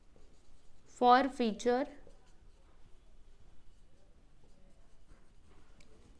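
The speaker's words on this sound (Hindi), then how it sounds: "अब चलिए बच्चों इसका फटाफट से नरेशन लिख देते हैं" Hand-writing a narration entry for forfeited shares in an accounts problem: soft continuous pen scratching on paper after a short spoken phrase, close and quiet.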